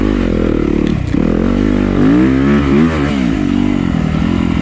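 A Yamaha YZ250FX dirt bike engine runs loud and close, idling roughly and then blipping through a couple of quick revs before settling, alone with no speech.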